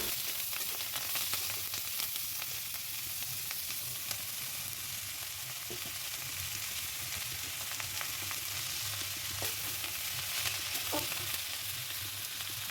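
Red amaranth leaves fry and get stirred in a kadai, a steady broadband sizzle running throughout with occasional faint scrapes, moderately close and with no talk.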